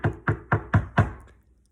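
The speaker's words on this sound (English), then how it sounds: "a knock on the door" Five firm knocks on a wooden door, evenly spaced and close, each a dull thud that rings briefly, the last one trailing off into silence.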